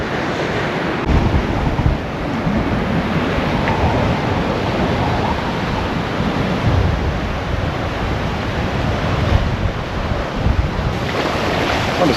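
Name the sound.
wind on the beach at Esperance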